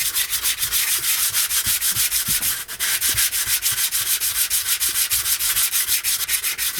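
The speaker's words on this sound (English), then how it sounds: "I'm going to sand this down a little bit just to make it even smoother" Rapid rhythmic rubbing of sandpaper across the surface of a stone boulder, close and loud, with even back-and-forth strokes repeating steadily throughout.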